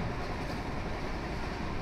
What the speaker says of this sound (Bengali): ট্রেনে উঠে গেছি